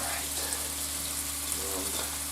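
Scallops searing in a hot pan, a steady close sizzle running throughout with no talking.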